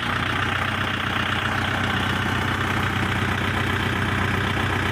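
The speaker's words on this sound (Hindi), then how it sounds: "ये देख लो दोस्तों कितनी प्यारी आवाज है, और हम ट्रैक्टर के बिल्कुल नजदीक खड़े हैं" A Kubota MU4501 45 HP tractor engine idles steadily right up close, a loud continuous low rumble with a constant mechanical chug and no other sounds.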